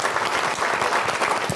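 Audience applause at a county commissioners forum, a dense steady clatter of many hands clapping through the whole moment, with no talking over it.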